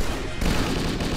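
Tactical grenade blast in Halo: Combat Evolved, a loud, dense burst of noise that sustains briefly with a sharp break partway through.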